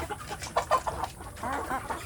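Free-range village chickens (ayam kampung), including laying hens, cluck in short bursts close by, a few louder calls standing out from a busy, overlapping murmur of fowl with no talking.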